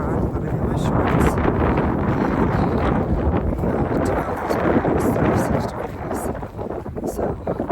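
Strong gusts batter the microphone on a mountain trail between Pecks Corner Shelter and Newfound Gap, a loud continuous roaring rush that eases somewhat near the end, with a few words spoken under it.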